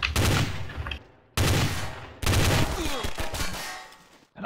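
Bursts of rapid gunfire in the video game Trouble in Terrorist Town, three loud volleys separated by brief gaps, with faint talk underneath.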